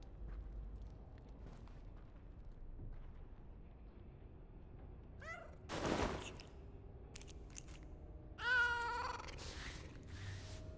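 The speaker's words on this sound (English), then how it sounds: "Kitty cat." A cat meows a few times over a quiet, faint background, with a short meow, a louder burst of noise, then a longer drawn-out meow later, and no talk.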